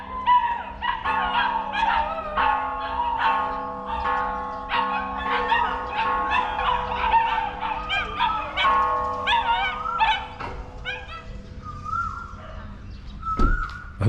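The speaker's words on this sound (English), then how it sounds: "As soon as the bells go, the dogs start howling." Several dogs in Thailand howl together in long, wavering, overlapping tones, sustained for many seconds before trailing off, with a brief sharp bang near the end.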